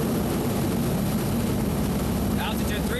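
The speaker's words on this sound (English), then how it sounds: "rolls into a 70-degree angle of bank turn to the right, then back to the left, demonstrating the P-3's high degree of maneuverability at high airspeed" A P-3 Orion banks hard through a low flyby at the 1987 Moffett airshow, giving a loud, continuous propeller-and-engine roar. A faint voice briefly surfaces near the end.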